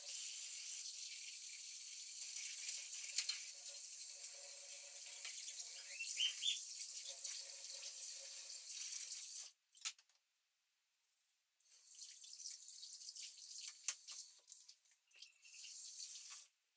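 Kitchen sink tap running steadily as cooking utensils are rinsed, a continuous hiss of water with light clinks, then a brief pause before the flow resumes with more clatter.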